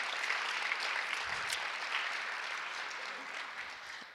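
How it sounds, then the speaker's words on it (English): Keynote audience applauding, a soft, even wash of many hands clapping at a distance, steady throughout and tapering slightly at the end. "So give yourselves a round of applause."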